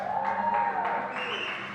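An audience at a taekwondo tournament, the women's -49kg final, claps in a slow, even church-clap rhythm of about four beats, fairly faint, with a voice carrying over it.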